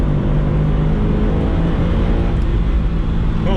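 A Subaru WRX STI engine on a race track holds a loud, steady, high-revving drone with strong harmonic tones throughout, recorded close inside the car with no talking.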